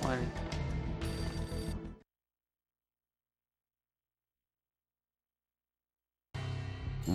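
A vandalised telephone rings in an entrance lobby in Max Payne on PS2: a loud, buzzing ring, a long stretch of dead silence, then the next ring begins.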